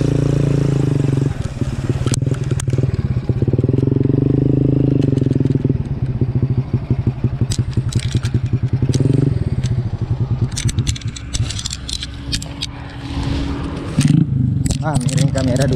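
Small ojek motorcycle riding along a farm road through rice fields in a village, a continuous close engine drone with rattling and clattering from rough ground, and people talking over it.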